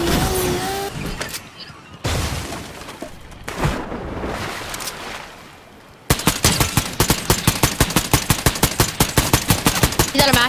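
Loud video game gunfire: scattered shots and noisy action at first, then a long, steady stream of rapid automatic rounds firing in an even rhythm, close and dominant.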